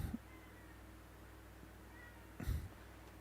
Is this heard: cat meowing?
yes